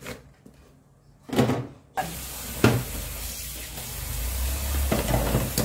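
Chopped vegetables, seasoned with salt, a little MSG and turmeric, hit a hot pan and settle into a steady loud sizzle, with a few clattering knocks as they are stirred and no talking.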